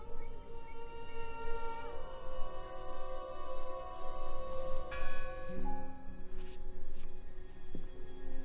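Bell ringing out in the horror adventure game Draugen, a few clear tolling strikes with long sustained tones over a constant low ambient drone and game music.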